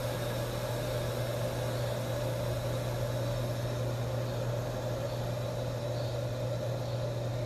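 An induction cooktop heating a pan gives off a steady, low electrical hum with a faint even hiss, unchanging and alone throughout.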